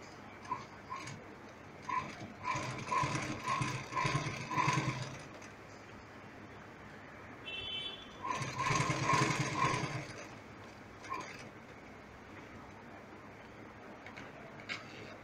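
Sewing machine stitching a fabric shoulder bag, running in two short bursts of rapid needle rattling separated by a pause, close and moderately loud with no speech.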